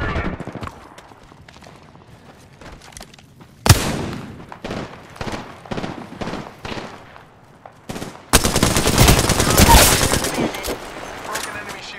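Bursts of automatic gunfire in a first-person shooter video game, with dense rapid volleys that intensify into a loud sustained barrage near the end, over game callouts.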